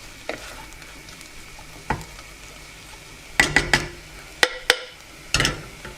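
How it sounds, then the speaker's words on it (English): Garam masala and other spices stirred in a pan over medium heat, a soft steady sizzle under sharp metallic clinks and scrapes of a utensil against the pan, several quick knocks clustered together, close and fairly quiet. "Let's mix those in and blush those spices, rehydrate them."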